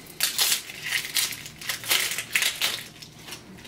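Papery onion skin is peeled away by hand in a kitchen, a series of close, dry crinkling and crackling bursts in uneven rhythm with short pauses between pulls.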